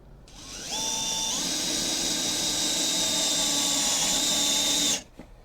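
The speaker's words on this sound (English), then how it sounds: "I'm putting a self-tapper right there in that section" Power drill driving a self-tapping screw into a truck tailgate panel: a close, steady motor whine climbing in pitch as the screw bites, running several seconds before stopping abruptly.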